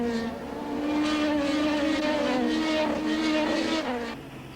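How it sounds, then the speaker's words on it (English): Identical Lola race cars with Judd engines screaming past at high revs in a 1996 ITC Championship round at Magny-Cours, a loud continuous engine roar with shifting pitch as the field passes close by, fading slightly at the end. "All the cars in this year's championship are identical Lolas with Judd engines."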